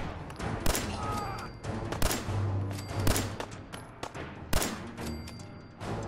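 Gunfire in Fallout 4, several sharp shots spaced irregularly with echoing tails and a low droning background, moderately loud, no talking.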